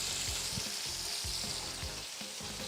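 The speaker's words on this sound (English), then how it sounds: "I'll start by adding the potatoes" Potatoes and onions frying together in a pan on high heat, with a dense, steady sizzle and occasional soft stirring scrapes close by.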